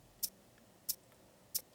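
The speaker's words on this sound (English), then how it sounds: "The next element that I added to the drums was a closed hi-hat," Closed hi-hat hits land on the upbeat of a beat built in Studio One, three crisp, bright ticks evenly spaced and heard alone over a faint background.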